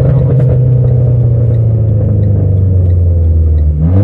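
Renault Clio 4 RS Trophy engine holding a loud, steady revving drone at launch, with low rumble throughout and the pitch shifting near the end.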